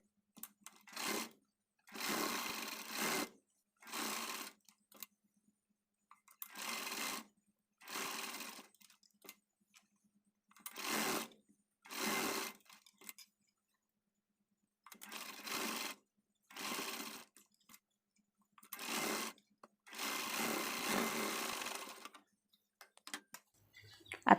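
An electric sewing machine stitches a silky blouse piece backed with canvas, running in about a dozen short bursts of fast, even mechanical whirring separated by quiet pauses, close and fairly soft.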